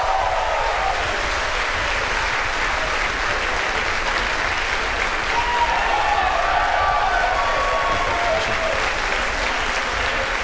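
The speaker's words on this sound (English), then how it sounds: "as you can hear by the applause" Loud, sustained applause and cheering from a crowd of SpaceX staff during a Falcon 9 Block 5 launch, rising at stage separation and continuing evenly throughout, with faint announcer talk beneath.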